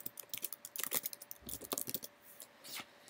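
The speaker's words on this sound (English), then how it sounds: "I'm just going to type in ClEvR argument in this case." A computer keyboard being typed on, a quick run of close, light key clicks in uneven bursts with short pauses between, quiet and without speech.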